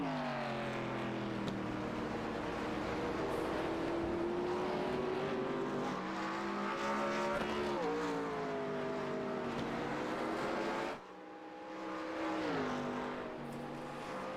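Vintage-style race cars lap the Watkins Glen circuit, loud engines droning and shifting pitch as they pass, one car fading before another surges back in.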